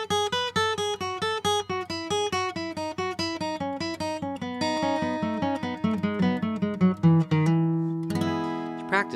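A major scale picked slowly downward in a bluegrass pattern on a stringed instrument, a steady stream of clear plucked notes stepping lower, ending on a sustained low ringing note.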